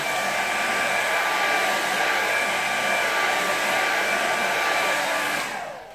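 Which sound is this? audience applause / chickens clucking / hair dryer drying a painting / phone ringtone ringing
hair dryer drying a painting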